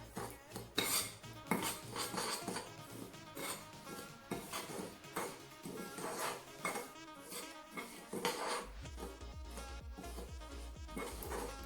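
A spoon clinks and scrapes against a bowl while dalgona coffee mixture is stirred, irregular close metallic taps and scrapes throughout, with a low rumbling hum entering near the end.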